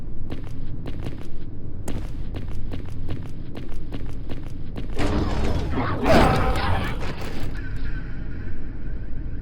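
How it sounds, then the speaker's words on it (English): Rotary machine gun in the shooter game Chasm: The Rift, firing a short rough burst midway amid clanking footsteps and mechanical game noise. "I guess this is the machine gun. Weird rotary thing."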